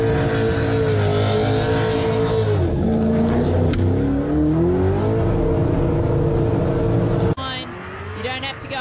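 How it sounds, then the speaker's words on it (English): A Burnout Championship elimination car revs hard on a burnout pad, a loud, sustained engine roar with rising and falling pitch that cuts off sharply near the end, with crowd and announcer noise underneath. "We've got more Burnout Championship elimination cars to come through."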